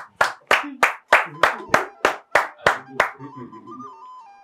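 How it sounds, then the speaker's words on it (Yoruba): A studio audience on a Yoruba game show claps in unison, about ten sharp, evenly spaced beats in a steady rhythm, followed by a brief trailing voice as the clapping stops. "ẹ bá mi pàtẹ́wọ́ fún wọn."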